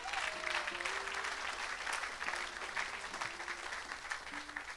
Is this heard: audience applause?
yes